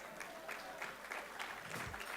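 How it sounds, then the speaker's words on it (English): Applause from delegates at a Dominica Labour Party conference, a soft, distant patter of many hands that stays fairly quiet and even across the short moment. "I want to invite all of us here present to give a round of applause to the contribution of this great constituency of Delegates"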